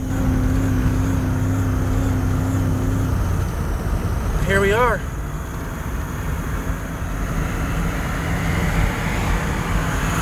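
An old, worn parts truck engine badly in need of a tune-up drones steadily while being driven home, a loud continuous rumble with road noise and a brief whine, with someone speaking over it.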